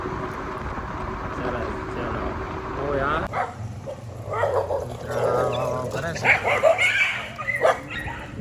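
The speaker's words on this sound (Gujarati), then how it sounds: "કૂતરા ભાવ ભાવ ફેરા રાખે છે" Dogs barking at night in a quiet, sleeping residential society on a cold, windy night, several yips and barks rising in the second half over steady background noise, with a voice talking throughout.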